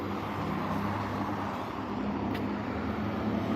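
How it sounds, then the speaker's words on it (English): Porsche cars driven by a professional driver on a racetrack at the Porsche Experience Center in Atlanta make a steady, distant engine drone and road rumble without a clear pass-by. "a whole bunch of Porsches coming through"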